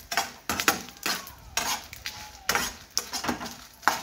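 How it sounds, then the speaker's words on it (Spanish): Chiles toast in a pan for a sesame salsa, making a soft sizzle broken up by repeated scrapes and clinks of a utensil stirring against the pan, close and fairly quiet. "miren, ahí estoy dorando los chiles."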